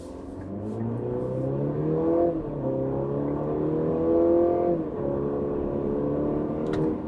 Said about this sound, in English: So let's go up to highway speed, shifting into sport mode. We'll go in 3, 2, launch control, 1.